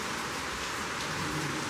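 Heavy rain pours down in a dense, constant roar of drops hitting surfaces, steady and close throughout with no pauses and no voices.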